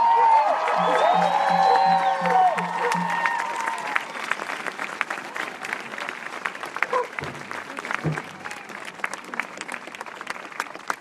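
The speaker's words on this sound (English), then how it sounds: "How about one more big round of applause for that?" Crowd applause at an outdoor rally against the Dakota Access Pipeline in Washington DC, opening with cheers and whoops over dense clapping that thins into scattered claps.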